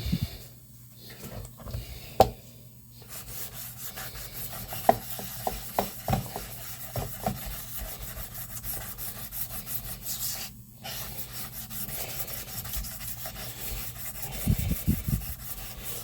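Knife blade sharpened on a 600 grit whetstone, heard as repeated soft rasping strokes at close range, steady and fairly quiet, with no talk.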